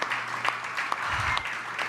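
Audience applause for a museum's chief curator at an exhibition event, a steady crowd wash of clapping running through the whole short stretch at moderate level with no speech over it.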